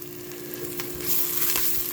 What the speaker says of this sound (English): I'm just gonna saute my onions until they become translucent